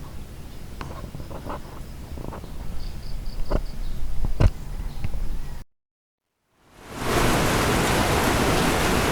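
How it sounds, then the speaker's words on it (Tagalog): Steady heavy rain pours down, a dense hiss with scattered drops and taps, broken by a brief silence before the downpour returns louder and closer. "Alauna pa lang, malakas ng ulan, no?"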